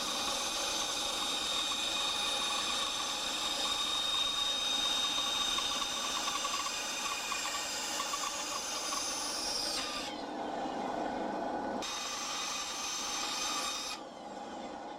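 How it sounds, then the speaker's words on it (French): Harsh, continuous noise of a power saw cutting out a wooden knife handle, loud and steady, briefly dropping out near the end before resuming. "l'idée c'est de découper le manche"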